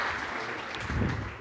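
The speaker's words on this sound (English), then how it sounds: "Give them a round of applause." An audience at a corporate talk claps steadily in a brief, dense burst of applause, with no speech over it.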